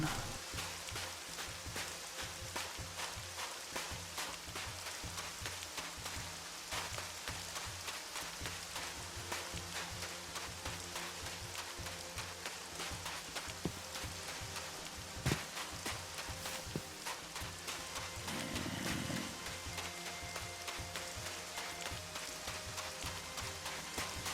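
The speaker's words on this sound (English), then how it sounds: "Sorry about the noisy rain." Rain ambience from the Minecraft TerraFirmaCraft game with the Matmos sound mod, a dense, steady hiss of falling rain with faint patters and occasional soft footsteps, continuous and fairly quiet.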